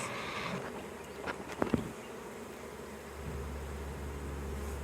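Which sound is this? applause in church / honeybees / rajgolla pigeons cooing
honeybees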